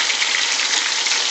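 Fish frying in a pan gives a steady, loud, dense sizzle with a hissing crackle that holds evenly throughout, with no voices.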